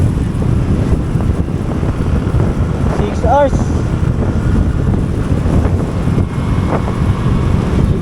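A motorcycle engine runs steadily on a long ride toward Pagsanjan, Laguna, producing a continuous low rumble heavily buffeted by wind, with a brief spoken remark over it.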